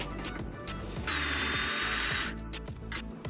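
A cordless electric drill whirs in a short burst of a little over a second, fairly close, while work goes on disassembling and repairing a cheap Chinese-made FF heater.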